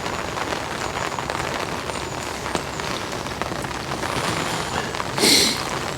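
Heavy rain falls steadily on a fishing spot at Suffolk Water Park, a dense, even hiss of drops pattering on surfaces throughout, with a brief louder rustle near the end and no voices.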